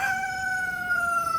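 A single drawn-out crowing call from a young rooster, steady and fairly close, held for over a second without any talking.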